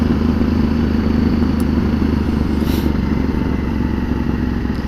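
A V1000 motorcycle cruises along a scenic road, its engine a loud, steady drone blended with constant wind rush and no pauses.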